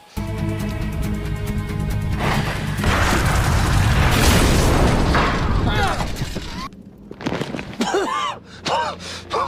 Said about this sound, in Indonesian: nekat menyalakan api untuk membakar dan meledakkan kolong rumah tersebut